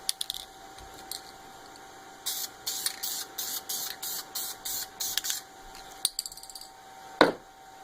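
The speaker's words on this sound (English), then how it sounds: "we're going to apply some black Krylon paint" Black Krylon spray paint being sprayed onto a wooden hammer: a run of short, sharp aerosol hisses in quick succession, with scattered light clicks before and after and a louder knock near the end.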